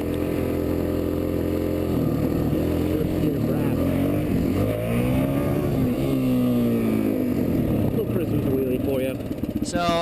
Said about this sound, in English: The massive brrraaap of the DRZ was drowning out what I had to say